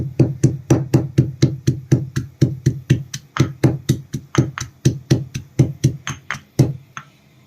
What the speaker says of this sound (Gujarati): આપણે આઠથી દસ જેટલી લસણની કડી છે એને આપણે થોડી પહેલાં આ રીતે ખાંડી લેશું